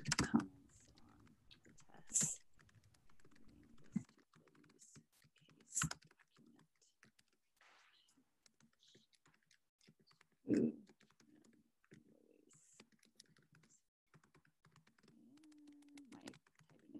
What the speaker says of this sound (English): My typing is horrible this morning.